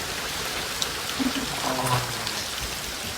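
Heavy rain pours down in a dense, steady hiss, with brief faint voices and a few tonal sounds rising above it partway through.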